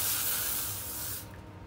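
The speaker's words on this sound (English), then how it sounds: "I'm gonna just kind of spray this all over" Hair product misted from a spray bottle over styled hair, one steady close hiss lasting over a second before cutting off.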